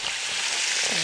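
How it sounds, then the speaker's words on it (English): Freshly sliced meat for stroganoff sizzling in a hot pan, a short, soft, steady hiss of frying with no talking. "let's hear if we get some sizzle"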